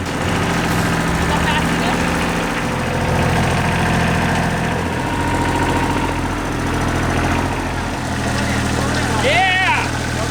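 A tractor engine idles and chugs steadily up close, a low, continuous rumble with a brief squeaky sound near the end.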